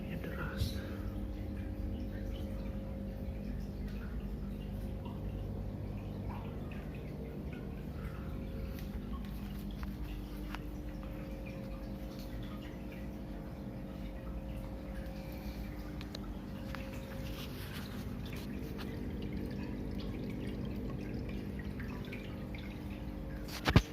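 Water pouring steadily from a small waterfall feature into a home aquarium tank, a continuous even splash and trickle heard close up without a break, with a steady low hum running beneath it.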